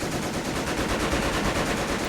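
Machine gun fire from a Wehrmacht MG emplacement in Company of Heroes with the Blitzkrieg mod, heard as a steady, dense, continuous rattle of rapid shots lasting throughout, with no talking.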